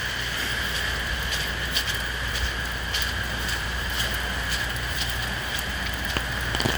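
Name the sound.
rain falling during flooding in Hawaii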